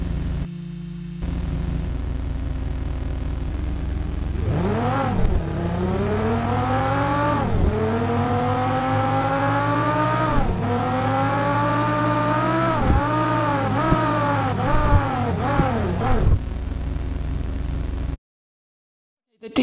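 A sound-designed race car engine climbs through repeated rising revs, each cut short by a gear change, the whine stepping up and dropping back about six times before stopping abruptly.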